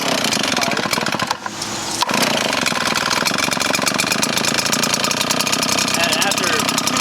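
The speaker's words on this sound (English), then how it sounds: "after 2 pulls, this thing is usually always ready to go, warmed up." A RedMax EBZ 8500 backpack blower engine catches after a pull and settles into a loud, close, rapidly pulsing two-stroke idle after a brief stutter near the start.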